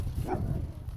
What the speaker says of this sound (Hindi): अच्छा हुआ ये बंधा हुआ कुत्ता है